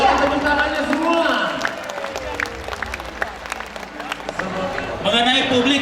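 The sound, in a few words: audience applause at Makassar government event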